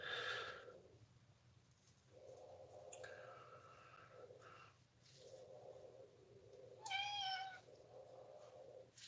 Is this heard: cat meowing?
yes